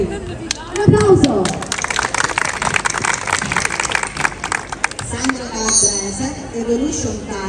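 An audience at a group-dance event applauds dance teachers as they are introduced. The clapping is close, busy and sustained for about five seconds, and voices can be heard around it before and after.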